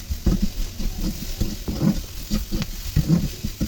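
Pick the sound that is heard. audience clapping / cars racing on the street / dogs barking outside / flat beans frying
flat beans frying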